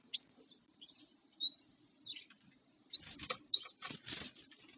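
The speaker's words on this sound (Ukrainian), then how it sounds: "І синиці одна за одною по черзі хапають на сінину, відлітають" Tits take turns snatching hay stalks at a feeder and flying off toward a nearby pear tree: soft wing flutters and brief high chirps come in short, scattered bursts, close by and otherwise quiet.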